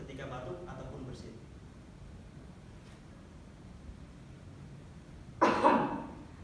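A person demonstrates coughing into a tissue held over the nose and mouth, producing one short, muffled burst near the end, after a stretch of quiet room noise and faint voices.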